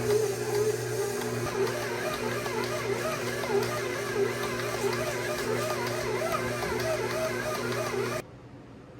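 A dough machine kneads a batch of varenyky dough enriched with butter, giving a steady droning motor hum with a rhythmic churning, thumping texture that runs loud and continuous before cutting off abruptly near the end.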